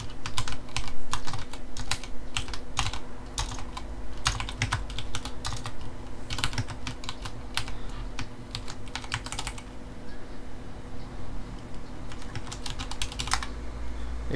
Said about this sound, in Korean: 그러면 아까 봤던 명령어 입력해 주도록 하겠습니다.